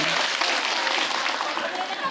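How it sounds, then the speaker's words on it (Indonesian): Audience applause at an Indonesian religious gathering, a continuous bright patter of many hands clapping at moderate volume for about two seconds, with a faint hum of crowd noise underneath. "Boleh tepuk tangan."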